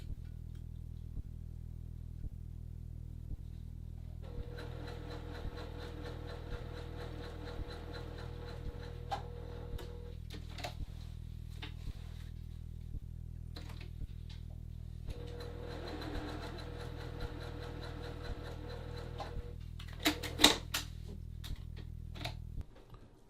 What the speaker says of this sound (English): I'm going to pivot and complete my stitching